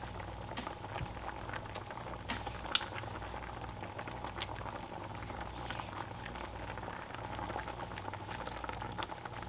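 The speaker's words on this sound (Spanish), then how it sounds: "he dejado hervir aproximadamente unos 2 o 3 minutos" Chicken simmers in a pot on the stove, a steady low bubbling and popping that carries evenly throughout, fairly quiet and close, with one brief sharper tap.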